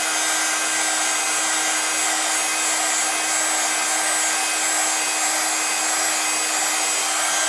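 A heat tool blows steadily behind a watercolour card, a continuous loud whooshing drone with a faint high whine, holding evenly from start to finish with no talk.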